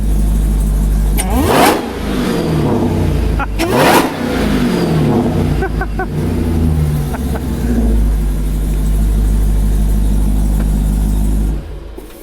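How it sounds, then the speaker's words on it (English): The supercharged engine of an AWD Hellcat Magnum sounds loud and close, idling and revving with two sharp throttle blips early on. Later it settles into a steady, rumbling idle. "You give her a rev."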